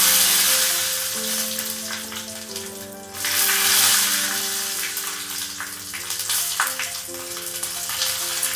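Fenugreek seeds and two dry red chillies fry in hot oil for a Kerala tomato curry made without coconut, giving a steady, close, broadband sizzle that continues throughout, with faint tonal hum underneath and no talking.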